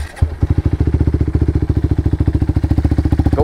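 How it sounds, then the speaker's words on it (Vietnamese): A Suzuki Satria motorcycle engine catches after a brief crank and settles into a loud, close, rapid rhythmic idle with steady, even pulses. "Ok, để nổ máy cho anh em nghe thử nè"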